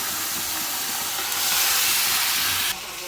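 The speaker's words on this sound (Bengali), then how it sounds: "মাথা ভাজা বসিয়ে দিলাম" A fish head fries in hot oil in a pan, giving a steady, dense hiss that swells louder midway and then drops back slightly near the end, with no talking.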